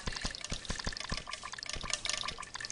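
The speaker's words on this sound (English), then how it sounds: "So that's the sound of shallow water." Quick, rhythmic splashes of shallow water in the video game Cube World, like footsteps wading through, close and fairly quiet.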